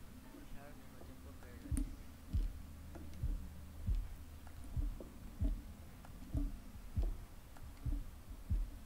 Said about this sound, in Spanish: Pulsar al mismo tiempo que el latido